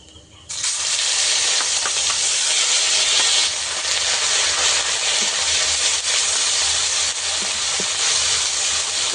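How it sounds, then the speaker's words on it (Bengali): A sliced onion drops into hot oil with panch phoron and fries in a loud, continuous close sizzle that bursts in abruptly and holds steady. "পেঁয়াজটাকে আমি কিছুক্ষণ ভেজে নেব"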